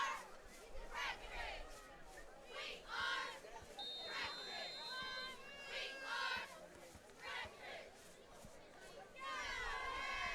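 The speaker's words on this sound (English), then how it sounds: "our cheerleaders are back at it again, cheering our Breckinridge County Tigers on" Cheerleaders chant and shout in bursts at a high school football game, the Breckinridge County Tigers crowd rising and falling at moderate distance, with a whistle-like tone and scattered calls among the cheers.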